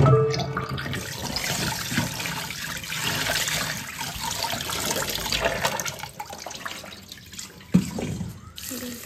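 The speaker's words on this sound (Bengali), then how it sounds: "এই যে আতপ চালটা প্রথমে ধুয়ে নেব" Raw rice washed by hand under a running kitchen tap, water pouring and splashing steadily into a bowl in the sink, close and continuous, with a brief knock near the end.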